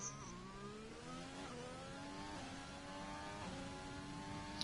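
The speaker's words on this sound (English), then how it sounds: "Trying to extend the revs as much as possible to get as much torque out of that engine." Engine note from a racing car in a PlayStation racing game at the Italy round of an online league, revving high and steady with rising and falling pitch sweeps, held continuously and loud without talk.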